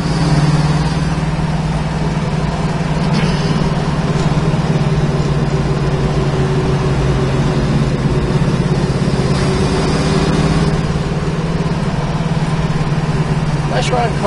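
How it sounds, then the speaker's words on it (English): A 1969 Chevrolet Camaro engine running steadily with a low, even idle rumble, close and continuous throughout without notable revving. "Running car."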